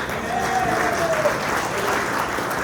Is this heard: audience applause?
yes